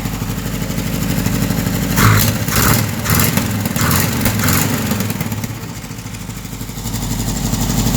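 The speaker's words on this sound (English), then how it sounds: "Needs a good tune, but she fires straight up and runs." A Ford Escort MK1 two-door, running again after 14 years and in need of a tune with a bad exhaust leak, idles roughly and steadily up close after starting, with a few revs blipping early on.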